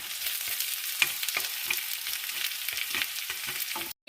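Boiled potatoes, broken up by hand, drop into a pan of frying ginger and garlic, with a continuous sizzle and a few sharp scrapes and stirs close by.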